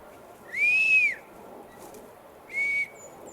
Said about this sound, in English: Sorry about the whistles